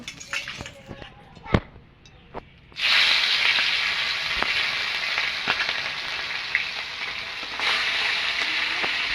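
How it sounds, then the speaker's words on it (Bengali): Ilish fish hit hot oil in a wok: a few sharp clatters and spatters first, then a sudden loud, dense sizzle that surges and settles into a steady close crackle, with no voices. "মাছগুলো ভেজে নেব।"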